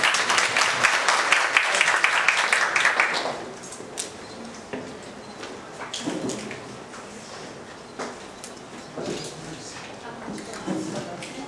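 An audience claps to welcome a photography instructor onto the stage at a Korean lecture event. The applause is dense for about three seconds, then thins into scattered claps and room noise.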